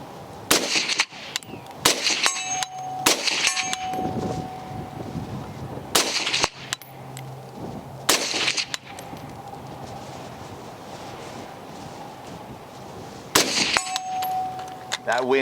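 A suppressed Radical Defense MK1 5.56 PDW with a 6.5-inch barrel fires single shots at 100-yard steel targets outdoors, each sharp report followed by a ringing metallic clang, spaced a second or more apart over wind noise.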